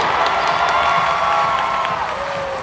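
A rodeo crowd cheers on a barrel racer, with a steady loud roar of voices and whoops that swells and holds throughout.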